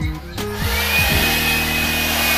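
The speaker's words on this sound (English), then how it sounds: "Blower time." A handheld hair dryer used for at-home hair bleaching clicks on and spins up, its motor whine rising in pitch, then settles into a loud, steady airy roar close by.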